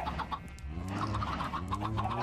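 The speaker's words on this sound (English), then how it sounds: "Spawn three chickens." Chickens in Minecraft clucking and squawking in a steady, busy stream of short calls, close and loud, with layered overlapping voices and no talk.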